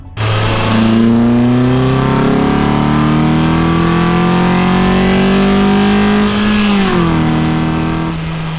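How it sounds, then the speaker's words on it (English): A car engine with a modified short ram intake climbs smoothly through a long, loud rev with a throaty tone, eases off briefly near the end, then holds steady. "And this is how the intake sounds now."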